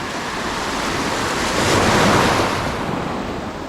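Ocean surf rolls onto a shore on a Philippine fishing coast, a loud, continuous roar of breaking waves that swells and recedes, with heavy wind buffeting the microphone and no voices.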